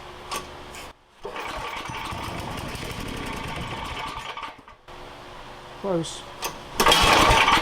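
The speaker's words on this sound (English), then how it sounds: "I figure it wouldn't hurt to do a cold start on it" An old small engine that sat unused for over ten years gets cold-start attempts with the choke: pull-start bursts, brief sputtering catches and stalls, then a louder rush of running at the end, with a voice speaking briefly.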